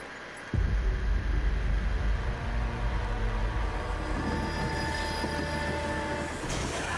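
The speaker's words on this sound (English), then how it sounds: "I ain't getting on that train." Train in the zombie video game Zombie Army Dead War 4 starts up abruptly with a loud rumbling roar and rattling wheels, a steady, heavy rail clatter holding close and continuous to the end.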